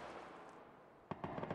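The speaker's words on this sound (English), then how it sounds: "the gunshot sounds for that man were far too quiet for somebody standing right next to me" Gunshots in the battle royale game PUBG, a brief burst of several sharp cracks in quick succession after a second of low ambient rumble, fairly quiet rather than close and loud.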